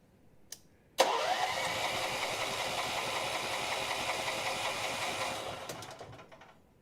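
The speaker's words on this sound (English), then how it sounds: "I want to see if it starts with the choke off, just to see what happens." A small engine on a snow blower or generator starts with the choke off. After a click it catches with a sudden burst and runs with a steady buzzing drone for about four seconds, then fades and dies away.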